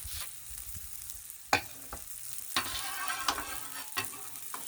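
Breakfast of pancake batter and sausage fries on a Blackstone griddle. A soft, steady sizzle is punctuated by several sharp spatula scrapes and clicks against the flat metal surface.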